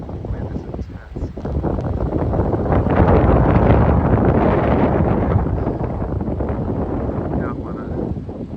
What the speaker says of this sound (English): Wind is intense.